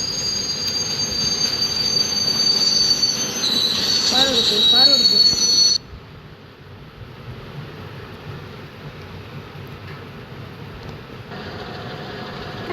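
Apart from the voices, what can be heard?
train passing in a motorbike video game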